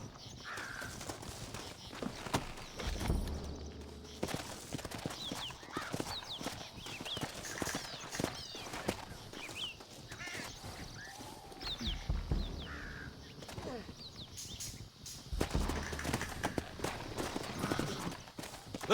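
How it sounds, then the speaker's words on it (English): Horse hooves clip-clop at an irregular pace in Red Dead Redemption gameplay, fairly faint and mixed with crows cawing and other ambient outdoor game sounds. "Looks like Carlos left us some horses."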